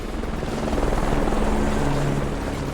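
Steady helicopter rotor thump in the Marvel: Ultimate Alliance 2 video game, a loud, continuous rhythmic chopping with a low engine drone underneath, heard alone without any talk.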